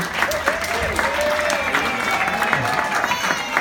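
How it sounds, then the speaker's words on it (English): Wedding guests at a reception applaud and cheer loudly, with dense, sustained clapping and whoops filling the room throughout, while a few voices rise above the crowd. "That's probably going to be the only loud cheering and applause you hear during the best man speech"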